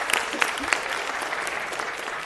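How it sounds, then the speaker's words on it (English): Audience applause rings out at a city council meeting, a steady, dense round of clapping from a seated crowd that holds at an even level throughout, with a few sharper individual claps near the start. "Let's give Josh a big round of applause."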